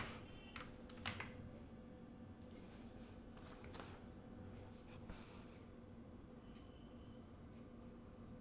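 Keys clatter steadily on a computer keyboard as a search query is typed, a quiet run of soft, irregular keystrokes over a low steady background hum, with no one talking.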